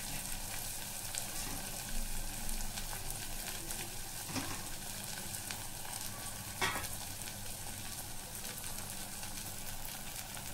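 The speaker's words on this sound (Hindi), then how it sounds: "मीडियम टू हाई फ्लेम पर इसको हम फ्राई करेंगे" Goat brain with green cardamom and black pepper frying in oil over a medium-high flame, a steady soft sizzle with a couple of brief stirring scrapes.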